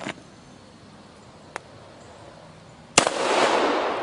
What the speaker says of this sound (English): I know this will make a big hole, even though it's a pistol. Let's try a 45.